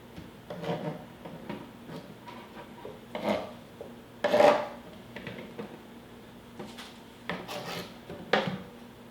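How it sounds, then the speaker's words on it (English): Short rasping scrapes of a utensil pushing food into a bowl while mixing mango and lime juice, several separate strokes at an uneven rhythm, close up. "Scrape that off into the bowl."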